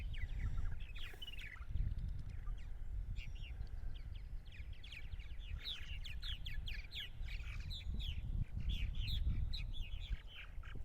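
A colony of purple martins calls and chatters around nesting housing on eastern Long Island in May, with many overlapping chirps and gurgling notes at close to middle distance over a low rumble of wind or outdoor background.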